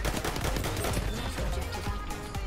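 Dense, loud gunfire in Battlefield 1 with an SL Sweeper: rapid shots with booming low end that overlap amid continuous game noise, no voices.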